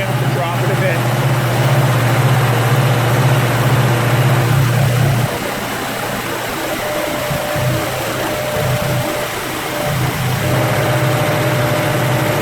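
An engine held at 1800 RPM during its break-in run drones with a steady low hum. Partway through, the tone shifts and settles at a slightly lower, rougher level. No one speaks.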